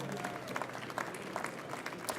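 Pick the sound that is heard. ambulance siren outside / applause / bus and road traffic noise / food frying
applause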